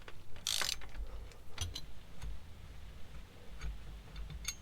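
A ratchet wrench loosens 13 mm bolts on the axle side while a steering stabilizer is removed from a 2021 Jeep Gladiator Rubicon. Close, crisp bursts of rapid pawl clicking stop and start, with no talking.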